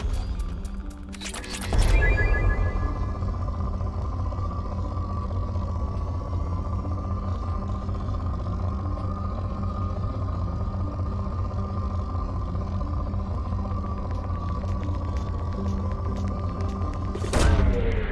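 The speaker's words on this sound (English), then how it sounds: "Launching probe. Probe away." A probe launching in the Mass Effect 2 video game: a heavy boom opens, a steady electronic drone hums throughout, and a second burst sounds near the end.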